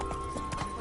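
Roach the horse galloping in the video game Witcher 3, with a quick run of hoof clip-clops under a steady game background hum, lasting under a second.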